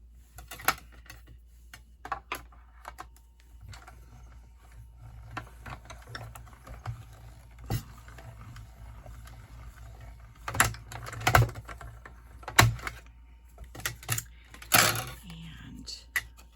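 A hand-cranked die cutting machine pushes silver cardstock through, giving sparse clicks and ratcheting clacks, with denser clusters of sharp ticks later on, close but fairly quiet against a low hum.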